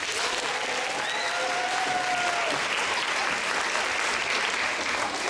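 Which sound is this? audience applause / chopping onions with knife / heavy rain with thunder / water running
audience applause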